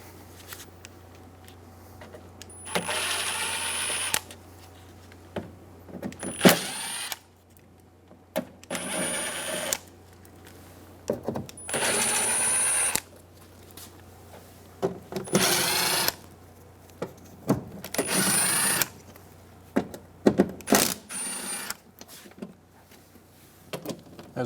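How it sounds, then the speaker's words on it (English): Power tool with a 7mm socket removing bolts from a door panel on a 1988-1999 GMC K1500 truck: repeated short bursts of whirring driver noise, separated by quiet pauses, close and moderately loud. "Using a 7mm socket, we're going to go around and remove all 10 bolts around the outside."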